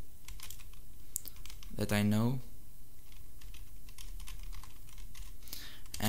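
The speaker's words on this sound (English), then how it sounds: "I'm just typing a username" Rapid clicking keystrokes on a computer keyboard while a username is entered at a command prompt, steady and close throughout, with a brief spoken phrase partway through.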